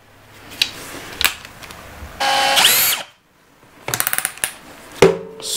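A hammer drill bores a half-inch hole on speed 3, loud close bursts of whirring motor with short clicks and trigger starts, a sustained run of about a second, then rapid pulses and a final spin; no talk.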